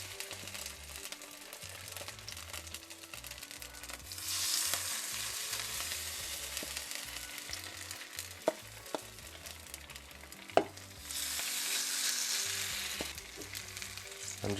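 Gluten-free hash browns fry in oil in a pan, a steady close sizzle that swells louder twice, with a few sharp clicks and scrapes and no talking.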